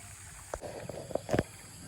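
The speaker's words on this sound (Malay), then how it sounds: "Air menggelegak tu nampak." Hot spring water bubbles and flows at a campsite at Pos Bersih, Ulu Slim, with irregular gurgling pops over a constant watery rush, heard close up.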